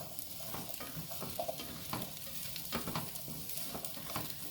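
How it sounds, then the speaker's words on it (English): Butternut squash and vegetables sauté in a pot with a soft, steady sizzle, broken by occasional scraping stirs and light clinks of the utensil, fairly quiet and close. "we want to saute it a little bit, get it a little bit brown"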